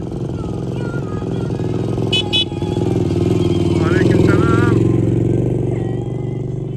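A convoy of touring motorcycles rides past on a road beside a stream, loud, close engines droning and revving continuously, with a few short chirps and a voice speaking over the engine noise.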